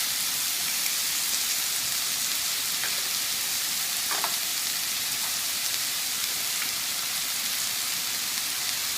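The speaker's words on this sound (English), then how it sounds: "I'm adding the apples and sage. I want to stir this and cook this for a couple minutes" Apples and sage cook in a hot pan with a steady, even sizzle and a few faint clicks of stirring, a continuous hiss close by with no voices.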